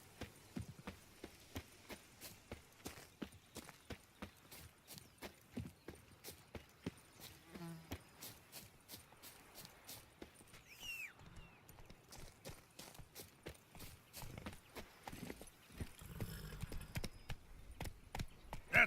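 Roach the horse from The Witcher 3 walks at a steady clip-clop, hoofbeats evenly spaced and fairly close, with a brief snort or whinny and faint ambient sounds in between.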